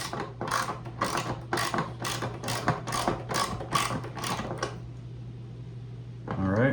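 A ratchet socket wrench clicks rapidly and steadily while turning a fastener on a proton pack, close up with a brief spoken word, then stops before a louder rustle at the end.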